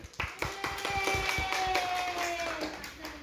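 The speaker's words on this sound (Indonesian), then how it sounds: "Tepuk tangan." A classroom group claps hands after a quiz, a quick run of about a dozen close claps at a brisk, slightly uneven pace, fairly soft overall with faint tonal background hum.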